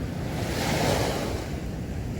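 Sea waves on the Rayong coast in the evening wash steadily in a continuous broadband roar, mixed with wind buffeting the microphone, fairly loud and constant with no voices.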